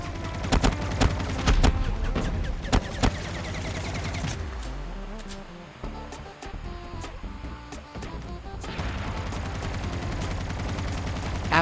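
Automatic gunfire in the Call of Duty Mobile battle royale mode, rapid bursts of sharp shots with a quieter gap in the middle, then another run of sustained firing, no talking.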